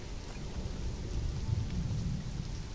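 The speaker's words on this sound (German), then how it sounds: "Lauter Regen sieht man gar nicht so viel." Rain in the video game Conan Exiles, a steady soft hiss of falling rain with a low rumbling undertone throughout, faint and continuous with no voices.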